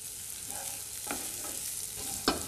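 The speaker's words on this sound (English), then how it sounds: "So 2 teaspoons of olive oil into a pan, and we're just going to saute this" Onions sautéing in two teaspoons of olive oil in a pan for a spinach and feta quiche, a soft, faint sizzle with a few light spatula scrapes.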